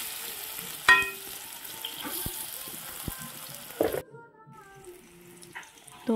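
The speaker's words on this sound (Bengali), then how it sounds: "তো ঢেকে ঢেকে আমি কম আঁচে আলুগুলো এই যে ভাজা করে নেব" Potato pieces fry on low heat in a pan with turmeric and salt, giving a soft steady sizzle dotted with sharp utensil clinks, then turning much quieter partway through.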